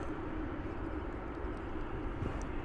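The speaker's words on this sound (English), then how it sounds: "That was Flight 2609 arriving from San Antonio here in Texas." Airliner arriving at DFW Airport in Texas, a flight in from San Antonio, heard as a steady, fairly faint low engine roar and rumble from a distance with no voices.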